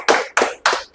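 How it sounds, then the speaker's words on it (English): Three distinct, sharp claps spaced at a steady rhythm, close and fairly loud, as an audience welcomes a candidate at a public speaking training session; sounds more like a single person's hands than a full crowd. "Please have a big round of applause for Lakshmi"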